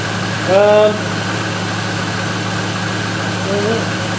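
A Range Rover engine idles with a steady, even hum, close by, with brief voices talking over it.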